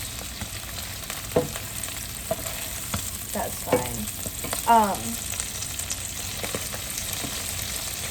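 Oil crackles and pops in a pan as spinach fries, with scattered sharp snaps over a steady sizzle and a few faint voices in the background.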